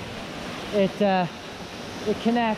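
Waterfall by a large cave in the Upana Caves, Gold River, British Columbia, a steady broadband wash of falling water that runs throughout beneath a man's nearby speech.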